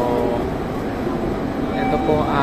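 A train at a station platform in Japan, serving the line to Saga in Fukuoka, gives a steady, fairly loud rumble and hum with a faint rising whine near the end; no clear speech.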